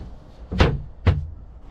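A cupboard door on newly fitted hinges in a Land Rover 110 camper build gives two sharp, close wooden knocks about half a second apart, with near silence around them.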